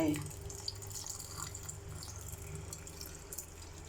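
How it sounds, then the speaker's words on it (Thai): Boiled sugar syrup with salt poured over stey fruit pickles, a soft continuous liquid trickle heard close and faint, with a voice talking over it. "ใส่น้ำตาลที่ต้มเอาไว้เนาะกับเกลือแช่ลงไป"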